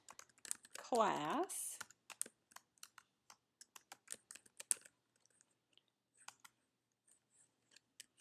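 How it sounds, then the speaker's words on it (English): Typing on a computer keyboard comes through as quiet, irregular key clicks in short bursts, with a brief voice near the start and sparser taps toward the end. "I'm going to type technology"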